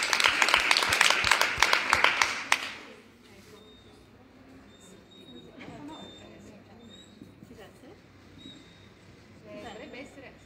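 Audience applause at an author talk event, a burst of dense clapping from a gathered crowd lasting a couple of seconds before fading into room murmur and quiet talk.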